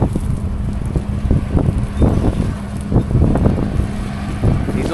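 Strong outdoor wind buffeting the microphone on a farm during spraying and planting, a loud continuous rumbling roar with gusty surges throughout.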